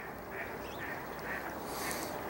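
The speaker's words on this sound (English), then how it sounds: "if anyone can identify these particular ducks, I'd be happy to know who they are." Ducks at a heated, open-water pond in winter give several faint quacks over a steady outdoor background hiss.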